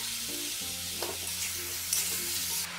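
Sizzling chicken for a Kerala-style chicken roast being stirred in an uncovered pan, a steady broadband fry hiss with soft scraping stirs throughout, close and continuous, no voices.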